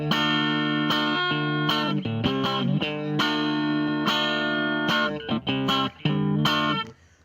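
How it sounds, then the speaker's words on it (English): Electric guitar through a NuX Kompressor pedal set for high sustain, playing funky chord stabs with quick attack in a choppy rhythm, close and clear with no talking. "when you've got a high sustain, is that you can play some really funky chords and get this really great quick attack"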